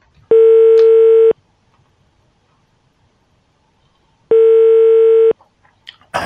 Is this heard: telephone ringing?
yes